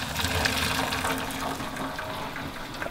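Pasta water for fusilli with broccoli pours and splashes out of a pot as it is drained, a steady close gushing rush of water with no talking.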